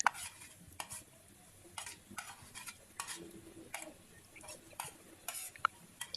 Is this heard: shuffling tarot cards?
no